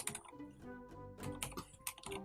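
Keys clatter on a computer keyboard in quick, irregular bursts of close, quiet taps, then briefly pause before another short run.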